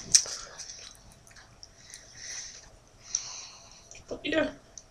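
Close, soft chewing and biting of cheese with wet, squishy mouth sounds and a few louder crunchy bites near the end, quiet and intimate.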